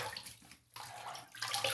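Cold water runs from a tap to wet the face before a shave: a steady, close, hissing rush that dips briefly and then continues.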